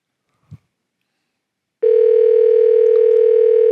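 After a brief click on a telephone line, a loud, steady electronic ring tone starts and holds for nearly two seconds.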